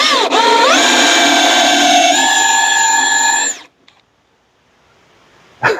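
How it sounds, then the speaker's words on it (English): A Ryobi power drill boring with a Forstner bit whines loudly and steadily for about three and a half seconds, its pitch rising as it spins up, then stops, leaving near silence. "I have this Forstner bit that I'm going to do."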